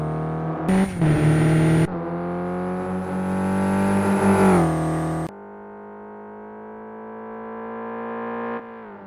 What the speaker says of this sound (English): now the engine's revving hard as it charges toward follow through